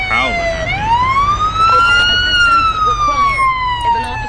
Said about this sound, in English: That ambulance, don't stop howling at me.